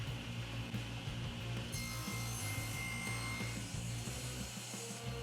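A hand saw cuts steadily through two wooden pieces held together with carpet tape, splitting them down the center; close, continuous rasping strokes with no talking.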